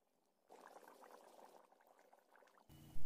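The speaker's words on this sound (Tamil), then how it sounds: "அடுத்து 1-10 நிமிஷத்துக்கு இந்த குழம்பு நல்லா கொதிக்கட்டுங்க." Mutton curry simmers and bubbles quietly in a pot, a soft continuous burbling for a couple of seconds that ends with a louder low thump.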